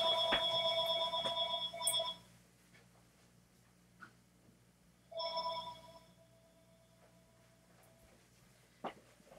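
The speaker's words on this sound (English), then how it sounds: "oops, sorry, that's my phone ringing" Phone ringing indoors, a bright electronic ringtone chiming for about two seconds, then a second shorter burst after a pause, with faint scattered handling noises in a quiet room between and after.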